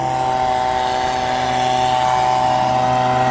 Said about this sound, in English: So we brought some backpack blowers just to try to aid in the drying process,